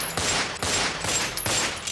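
A revolver fires six shots in a dramatized sound effect: loud, sharp reports come in rapid succession, each with a ringing tail, with no talk.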